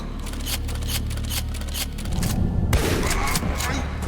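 Pistol fire in the video game Ashes 2063, in underground sub caverns, with repeated sharp shots over a constant low hum and a louder crackling burst partway through.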